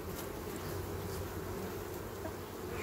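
A honeybee colony in a hive nest extended in late July hums continuously, a dense close buzz that holds steady throughout with no voices.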